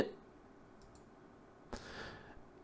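A single sharp computer mouse click on a PC being set up for a Windows 10 install from a USB stick, close and crisp over a faint room hum, followed by a soft whooshing swell.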